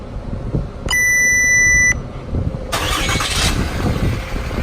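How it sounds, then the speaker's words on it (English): A RAM 2500 pickup is remote started from a smartphone: a steady electronic beep sounds for about a second, then after a pause the engine cranks and fires into a loud, rough idle close by. "Remote start the vehicle."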